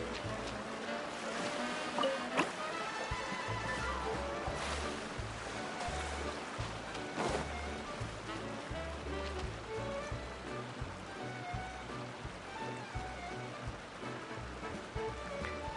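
Waterfall in Genshin Impact, a continuous broad rushing wash of water with low rumble, steady and fairly full throughout.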